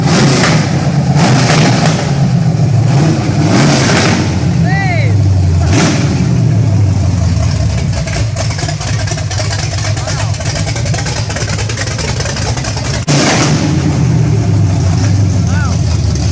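A carbureted 427 V8 making 505 horsepower, run with no mufflers fitted, revs loudly and steadily at close range, a raw continuous roar with a few sharper blips of throttle, while a voice shouts briefly over it.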